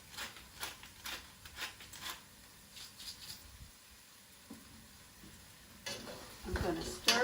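Eggplant frying in a pan is stirred in a quiet kitchen, soft sizzling under a string of light scraping strokes, with a louder clatter of utensils near the end.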